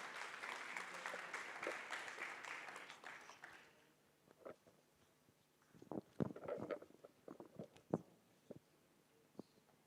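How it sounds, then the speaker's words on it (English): Audience applause at a university executive council forum, a dense burst of clapping for about four seconds that fades out, followed by scattered knocks and shuffling sounds near the stage. "Please give a round of applause to Mr. Krishnan."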